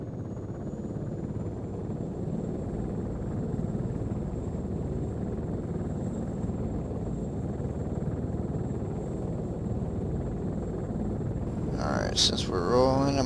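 A helicopter in the Arma 3 video game makes a continuous low rotor and engine rumble, steady and fairly loud throughout, with a brief sharp electronic chirp near the end.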